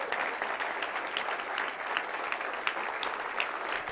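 Steady applause from an audience at a presidential campaign announcement, a dense, even patter of clapping that holds throughout with no talk over it.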